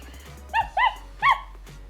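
IMC Toys Lucy interactive toy puppy giving three short electronic yips and barks in quick succession, close and clear over a quiet background.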